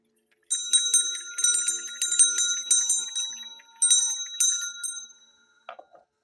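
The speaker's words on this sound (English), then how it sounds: "there's going to be a little bell sound going on, so just be prepared" A small bell rings repeatedly in bright, tinkling strikes for several seconds, then fades, followed by a couple of faint soft clicks.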